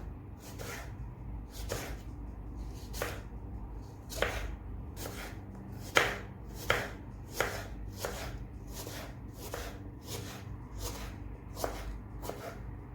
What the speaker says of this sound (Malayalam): ഇനി ചെറിയ പീസസ് ആയിട്ട് കട്ട് ചെയ്ത് കൊടുക്കാം